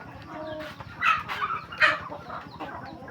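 Backyard chickens raised at home cluck and squawk nearby in short bursts, with a few louder calls standing out over a steady farmyard background.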